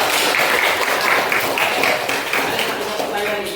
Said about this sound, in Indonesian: itu tepuk tangan dulu untuk Ucok